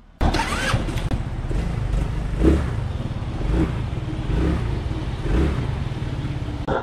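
An FKM FYRO 175 scooter engine cranks and catches, then idles and revs in several rising pulses, close and steady throughout.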